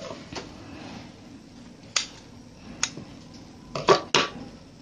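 Scissors snip blouse fabric at the neckline, a few sharp, close metallic clicks spaced apart and then two in quick succession over a quiet background.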